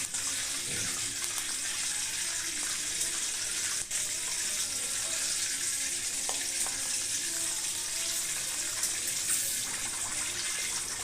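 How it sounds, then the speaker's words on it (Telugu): Green chillies fry in hot oil for samosa preparation, giving a steady loud sizzle with scattered small pops and crackles throughout, no talking. "పచ్చిమిర్చి పేలకుండా చూసుకోండి, టపేలు మనం పేలుతాయి పచ్చిమిర్చి"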